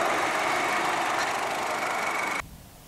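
A Honda Civic's 1.8 liter four-cylinder engine idles with a steady, loud, close rumble, then cuts off sharply near the end, leaving only faint background noise.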